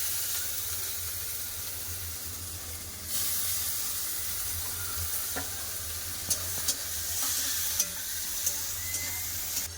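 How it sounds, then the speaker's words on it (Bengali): Chopped onions fry in hot oil in a wok with five-spice tempering and a dried chili, a steady close sizzle that swells partway through. Sharp scraping clicks of stirring punctuate the second half. "পেঁয়াজ ভালো করে ভাজা হয়ে গেছে"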